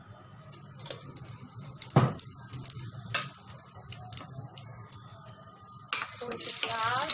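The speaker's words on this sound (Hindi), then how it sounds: "तो चलिए डालते हैं इसमें ज़ीरा।" Cumin seeds frying in hot oil for a guar bean dish, a soft sizzle punctuated by spoon taps and scrapes on the pan, the frying hiss swelling louder near the end, close and without speech.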